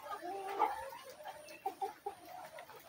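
Broiler chickens on a poultry farm give scattered soft clucks, faint and intermittent, with a few sharper calls near the end against a quiet background.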